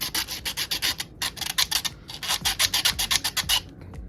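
Sandpaper scuffs a plastic part from a Star Wars DH-17 blaster kit in quick, close back-and-forth strokes, a steady run of short rasping bursts with brief pauses between.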